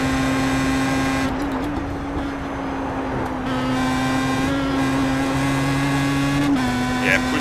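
A Pro Mazda race car at Watkins Glen in the iRacing simulator, its engine holding a steady buzzing tone that dips briefly and recovers as the throttle changes, with someone talking over it.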